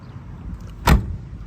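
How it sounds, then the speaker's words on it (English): A 1971 Chevrolet Camaro RS Z/28 door shuts once with a single solid, close thump against quiet background. "Shut the door here."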